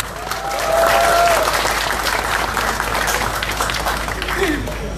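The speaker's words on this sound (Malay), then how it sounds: "Tuan-tuan dan puan, berikan tepukan" An audience applauds a member of parliament at a Malaysian political event, with sustained clapping from a large crowd that holds steady throughout and a few faint tonal sounds drifting over it.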